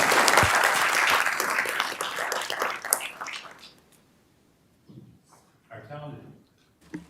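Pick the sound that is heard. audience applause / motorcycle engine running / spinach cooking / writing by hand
audience applause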